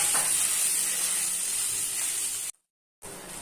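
Ground spice paste and nigella seeds fry in a spoonful of hot oil, giving a steady, close sizzling hiss that runs unbroken, cuts out briefly near the end, then resumes.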